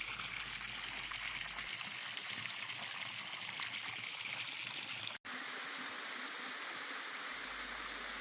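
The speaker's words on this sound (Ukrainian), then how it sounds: "А це звуки з українського водоспаду, який знаходиться поряд." A mountain waterfall near Kosiv in Ukraine gives a steady, even rush of flowing water, loud and unbroken, with a short dropout partway through.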